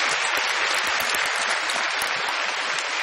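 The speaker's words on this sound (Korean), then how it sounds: "박수 한번 주세요." Steady, dense audience applause at a Korean lecture show, loud and continuous throughout with no talking over it.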